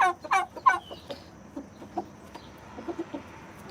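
Chickens cluck close by, a few sharp squawky calls at first followed by scattered soft clucks spaced through a quiet yard.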